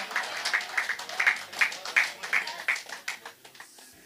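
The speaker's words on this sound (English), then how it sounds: "Phlegmatics are clapping for themselves." A church congregation claps during a morning prayer service, a scattered, uneven patter of hands over about four seconds that thins out toward the end, with voices talking through it.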